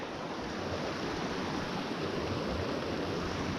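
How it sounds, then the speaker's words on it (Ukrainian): A fast mountain river in the Carpathians, where wild trout live, rushes in a steady, dense wash of water noise that stays close and even throughout, with no voices. "А настільки сам шум води розслабляє"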